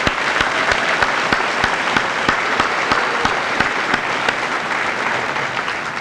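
Sustained applause from a high school senior assembly audience in a large hall, steady dense clapping from many hands with a few sharper claps standing out, continuous for several seconds.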